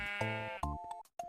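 Minecraft sheep bleats in a quick series, a long wavering baa followed by shorter clipped ones, close and clear with no talking over them.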